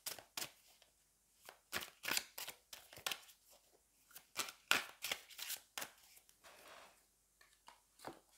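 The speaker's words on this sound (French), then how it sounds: "je peux juste poser mes cartes." Tarot cards are laid and slid onto a table during a reading, soft papery flicks and shuffling swishes in irregular bursts, close and quiet with no talk.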